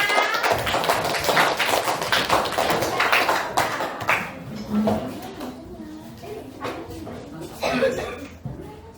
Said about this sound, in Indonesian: Ayo kita kasih semangat dulu, tepuk tangan buat kelompok 6.